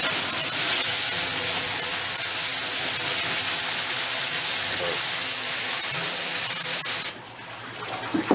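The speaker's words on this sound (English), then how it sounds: "You see all the steam and everything coming from it." A steam cleaner blasts hot steam and water spray over Suzuki SV650S motorcycle parts during a rebuild, a loud, continuous close hiss that cuts off abruptly near the end.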